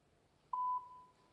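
A single short electronic beep, steady and clear, fading out in a quiet room.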